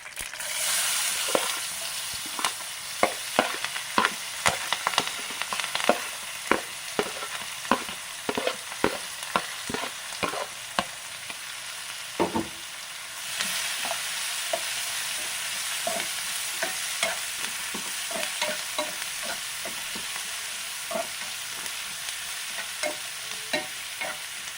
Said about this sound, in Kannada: ಈಗ ಈರುಳ್ಳಿ, ಹಸಿಮೆಣಸಿನ್ಕಾಯಿ, ಕರಿಬೇವು ಒಟ್ಟಿಗೆ ಹಾಕೋಣ